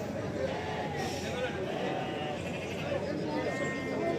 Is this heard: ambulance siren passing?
no